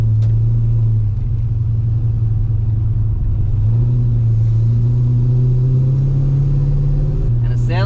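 Holden VN Commodore with an LS1 V8 and a suspected exhaust leak near the headers, droning low and steady while driving, pitch rising and falling with engine speed under continuous road rumble, with a brief sharp sound at the end.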